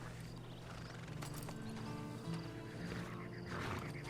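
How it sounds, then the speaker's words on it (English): A horse in the Red Dead Online video game snorts and whinnies amid clip-clopping hooves and low game ambience, fairly faint and close. "Then you better get on this horse."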